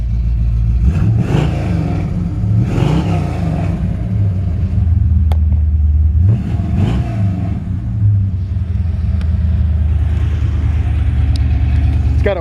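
A frame-off restored 1975 Corvette Stingray with a fiberglass body sits warming up, its loud exhaust rumbling low and close, swelling in a few revs over the steady idle.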